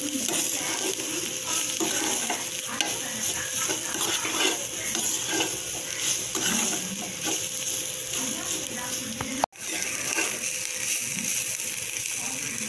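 Grated coconut being stirred dry in a pan over heat, with a continuous scraping and faint sizzle throughout and a brief break near the end; no one talks.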